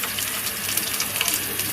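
Chopped onion hitting hot oil spiced with green cardamom and cloves, a steady broadband sizzle of frying for duck curry, continuous and fairly loud with small crackling spikes throughout.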